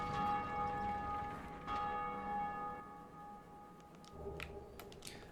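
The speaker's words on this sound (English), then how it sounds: "so rang the second bell" A deep bell tolls in the Dark Souls video game, one resonant strike whose long ringing tone slowly fades beneath quiet ambient game sounds.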